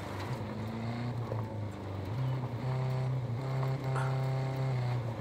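A loud Jeep with a broken exhaust system in Ghost Recon Breakpoint, its steady, rough engine drone continuous and close throughout, rising slightly in pitch partway through.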